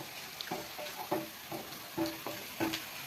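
Onions frying in a hot pan for a Kerala-style pollichathu fish dish, with a steady sizzle broken by repeated scraping stirs at a fairly regular rhythm, close and moderately loud with no talking.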